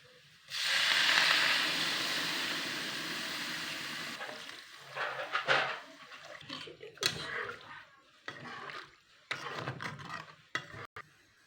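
Water poured into a pan of frying drumstick and potato hits the hot oil with a loud burst of sizzling that then settles into quieter, uneven bubbling and stirring clatter, close up.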